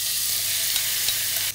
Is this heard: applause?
no